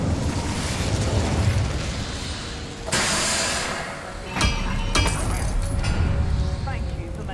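Fire spell Incendio cast in Hogwarts Legacy: a few sharp whooshing, crackling bursts rise out of a dense, steady wash of game sound, with the loudest flares arriving in quick succession partway through.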